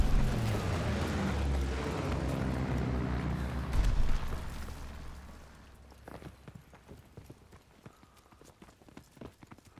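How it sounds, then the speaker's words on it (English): Mortar explosions in a shooter video game hit as heavy rumbling blasts in the first four seconds, then fade into lighter scattered impacts and background game noise. "Enemy mortar fire incoming."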